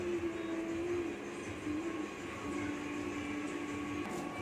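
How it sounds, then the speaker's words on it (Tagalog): A sublimation printer's head is moved along its carriage during shutdown maintenance, giving a steady mechanical hum and whine that holds for several seconds, with no talking. "Then, iusog naman po natin yung head ng machine."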